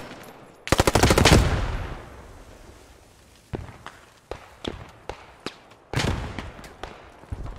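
A machine gun fires in the Post Scriptum video game, a loud close sustained burst followed by scattered single shots and a second burst, with footsteps and battle noise between.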